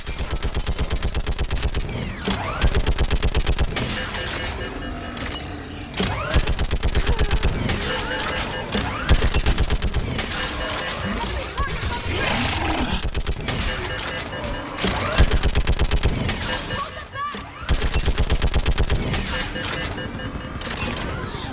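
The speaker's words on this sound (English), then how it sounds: "More on the way! Keep firing!" Rapid gunfire from the video game Mass Effect 3 rattles almost nonstop in dense automatic bursts, with shouted voices mixed in over the battle noise.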